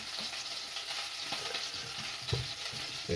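Lamb shanks brown in ordinary oil in a pan, giving a continuous soft sizzle with occasional scraping stirs and light pops, quiet and close, with no voices.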